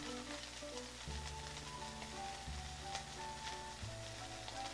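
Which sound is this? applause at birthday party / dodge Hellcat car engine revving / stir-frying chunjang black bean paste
stir-frying chunjang black bean paste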